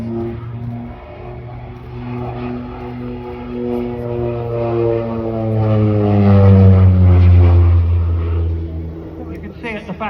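A propeller aircraft flies past at the Old Buckenham Airshow, its droning engine note swelling louder and bending down in pitch as it passes, with commentary over the sound.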